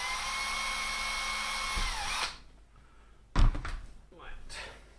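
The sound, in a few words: power drill enlarging holes in RC car parts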